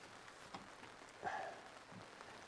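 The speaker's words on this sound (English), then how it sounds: "Rain got really heavy there for a minute." Rain falls on a North Face tent during car camping, a faint, steady patter with a few louder drops and a brief splash, no voices.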